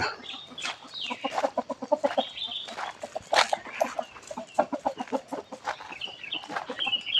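Chickens cluck in quick repeated bursts nearby, with a few louder squawks mixed in, busy and uneven like a small flock.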